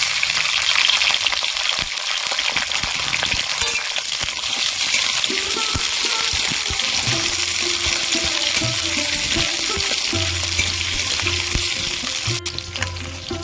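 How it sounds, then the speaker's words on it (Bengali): Onions fried lightly in hot oil in a heated wok, a loud, dense, continuous sizzle close by, with occasional soft knocks and a low tonal hum underneath in the later part, without any talking. "তেল দেবো পেঁয়াজগুলো আমি হালকা করে ভেজে নেব"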